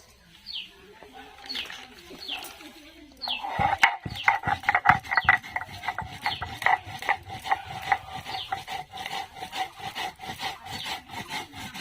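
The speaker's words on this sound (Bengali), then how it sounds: "এবার আমি জিরে আর মরিচটা বেটে নেব।" Cumin and chili being ground into a paste on a stone for a mola fish dish, heard as repeated rough grinding and rubbing strokes that grow denser after a quiet start, with birds chirping in the background.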